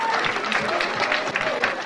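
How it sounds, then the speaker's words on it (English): Crowd applauding at a 9-ball pool match between Efren Reyes and Thorsten Hohmann in New York, a steady wash of clapping heard alongside faint voices. "And just listen to that crowd."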